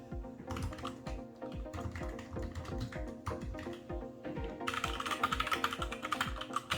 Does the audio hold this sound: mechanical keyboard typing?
yes